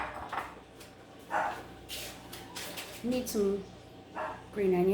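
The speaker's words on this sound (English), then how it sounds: "Not to worry if you hear the dog in the background" A dog barks in short bursts somewhere in a home kitchen while tacos are being prepared, faint behind near, ongoing talk and kitchen clatter.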